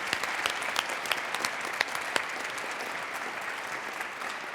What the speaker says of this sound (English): Big round of applause for these wonderful panelists